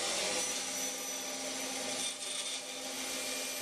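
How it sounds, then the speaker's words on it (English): Bandsaw cutting out a wooden part, a steady, loud, bright whirring hiss of blade through wood that holds evenly throughout with a slight dip midway, close and without talk. "And then I'm just going to use a bandsaw and cut these out."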